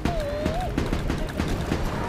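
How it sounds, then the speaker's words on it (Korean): A harpoon shotgun fires in a video game as a rapid run of punchy, repeated shots under a busy game soundtrack, with a gliding tone near the start. "작살 샷건 좀 야무진데?"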